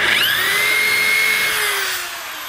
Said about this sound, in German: Und dann bohrt ihr das erste Loch.